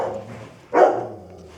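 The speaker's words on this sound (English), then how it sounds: "Oh, that dog's so noisy." A single sharp dog bark rings out close by amid quiet background hum, brief and loud against otherwise faint surroundings.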